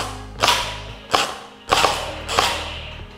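Shots from a Jinming J9 M4A1 water gel blaster toy rifle, four sharp snapping pops with a mechanical clack, spaced roughly evenly about two-thirds of a second apart, close by with no talking.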